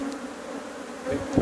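Africanized honey bees in Trinidad buzz around an open hive frame, a steady close drone with a swell of louder buzzing near the end.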